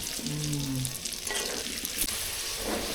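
New potatoes fry in oil in a wok, a close, continuous sizzling crackle with a brief tonal hum early on and light scraping sounds as the batch finishes.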